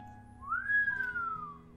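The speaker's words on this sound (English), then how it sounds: "Luke whistled." A single clear rising-then-falling whistle in a VR visual novel game, one smooth sustained note lasting about a second over a quiet musical background, no talk.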